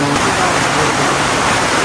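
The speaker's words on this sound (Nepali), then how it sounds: "यस्तो खतरनाक पानी परिरहेको" Heavy rain pours down in Nepal, a loud, dense, continuous hiss of water that fills the whole stretch with no break.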